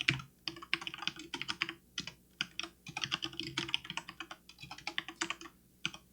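Rapid typing on a computer keyboard, close and clear, with irregular bursts of clicking keystrokes and short pauses throughout, no voices.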